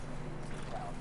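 Horses clip-clop in a scary video game, a soft rhythmic patter of hooves at low level blended into a steady wash of ambient background noise.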